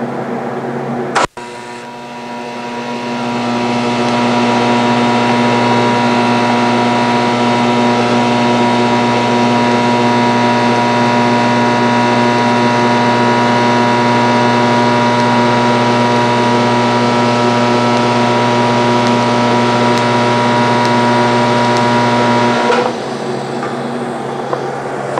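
TIG welding with a 3/32 filler rod: a steady, loud electrical buzz and hum with a sharp click at arc start, holding evenly for about twenty seconds before cutting off.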